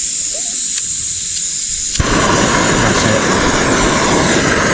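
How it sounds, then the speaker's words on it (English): A lightweight portable gas camping stove with no built-in igniter is lit outdoors. After a soft pop it roars into a loud, steady, close-up burner hiss. "This gas stove is one of them light ones that don't have the ignition on it."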